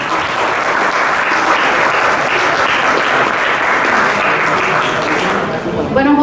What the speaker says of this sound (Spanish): Otro fuerte aplauso para él,